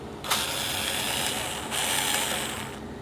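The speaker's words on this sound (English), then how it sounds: "Pick up the screwdriver. This? Yeah, and open the screw." A screwdriver turns screws out of a PS5 console during an HDMI port repair, producing a close, steady clicking ratchet sound in two sustained bursts without speech.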